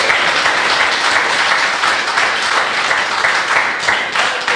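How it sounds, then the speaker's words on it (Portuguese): A church congregation applauds loudly and continuously, a dense, even wash of many hands clapping close by with no speech over it. "Pode aplaudir ao Senhor, porque Deus é bom em todo tempo."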